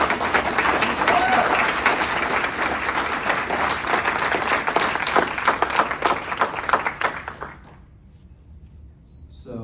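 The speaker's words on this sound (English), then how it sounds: "let's give Lynn a round of applause" An event audience gives a round of applause for Lynn, dense sustained clapping close by for about seven seconds before it drops away to near quiet.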